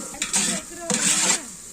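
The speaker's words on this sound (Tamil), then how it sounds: "இப்போ இந்த இஞ்சி பூண்டு பேஸ்ட்டையும் நல்லா ஒரு ப்ரௌனிஷ் ஆகிற அளவுக்கு நம்ம வதக்கிக்கலாம்." Ginger garlic paste sautéed with onions and green chilies in a pan. Two close scraping stir strokes sweep through a soft sizzle, with a brief utensil clink at the start.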